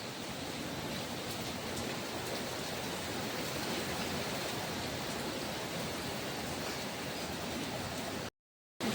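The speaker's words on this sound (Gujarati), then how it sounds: "આવતા રે જો કેવો વરસાદ આવે છે." Heavy rain pouring down outdoors, a dense, continuous hiss of drops on surfaces that holds steady for several seconds before a sudden brief gap near the end.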